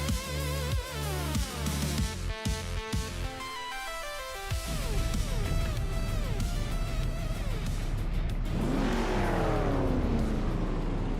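Several race cars accelerate hard at the start of a video game race at Ibisu West. Engines rev up through the gears in a busy, continuous roar. Around the midpoint one engine note sweeps past, and another car surges loudly near the end.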